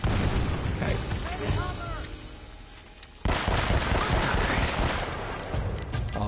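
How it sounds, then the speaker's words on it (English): A grenade explodes amid gunfire in Uncharted: Drake's Fortune, with rapid bursts of shots and heavy booms close and loud, a short lull, then another sharp blast followed by sustained firing. "That was a good grenade, annoyingly."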